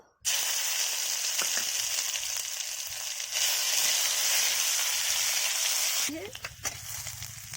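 Garlic frying in hot oil for a spiced egg dish: a loud, steady sizzle starts abruptly and runs continuously, with brief stirring clatters and a shift in the spatter partway through.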